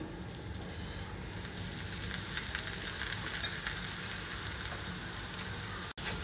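Oil sizzling steadily in a pan as food fries for a vegetarian lunch, a continuous bright crackle with small pops throughout, close and fairly loud, with no talking.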